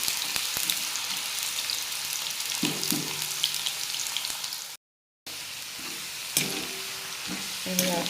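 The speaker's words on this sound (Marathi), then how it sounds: "आलटत पलटत तळून घ्यायचे छान।" Potato pieces frying in hot oil over a high flame, a loud continuous close sizzle with spatula scrapes and clunks as they are turned, briefly cut out midway, no talking.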